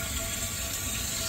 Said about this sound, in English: I'm gonna go ahead and fill this with water and see if any of my welds are seeping water